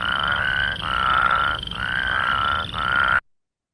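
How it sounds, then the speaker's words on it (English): A recorded plains spadefoot toad gives a loud, whirring trill, broken into three or four short pulses with brief gaps between them, heard alone before it cuts off. "Our plains spadefoot, whirring noises, whir, whir."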